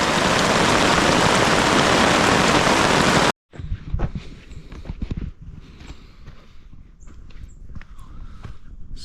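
Heavy rain falling at a lake campsite in the Boundary Waters, a dense steady roar that cuts off abruptly, followed by scattered drips and soft knocks.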